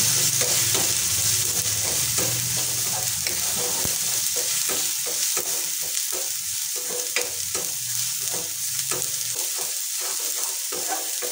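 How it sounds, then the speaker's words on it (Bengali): Spices with turmeric and salt frying in a pan for coriander-leaf bharta, stirred steadily, giving a continuous close sizzle broken by repeated scraping strokes of the spoon, with no talking. "ভালো করে নেড়ে নেব।"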